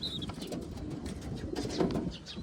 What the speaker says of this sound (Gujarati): ઓલી બાજુ પણ કબૂતર આવી ગયું છે જો